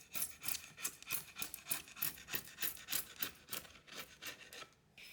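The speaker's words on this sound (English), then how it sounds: "now I'm only gonna cut the triangle out of these." A hand saw cuts a triangle out of doubled Nordic plywood with a brisk, rhythmic rasping stroke, about a dozen back-and-forth passes at close range, fairly faint with no talking.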